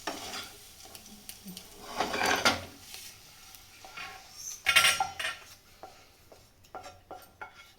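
Fried eggs lifted off a hot tawa with a metal spatula: clattering scrapes and clanks of utensil on pan in two louder bursts, with a faint sizzle and small knocks between, no talking.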